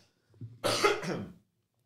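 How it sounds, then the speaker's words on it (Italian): A person with a cold gives a single throaty cough, preceded by a small intake sound, close to the microphone in an otherwise quiet room. "dare un altro colpo di tosse perché sono raffreddato"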